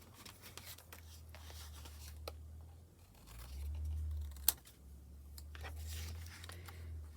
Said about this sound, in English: My scissors.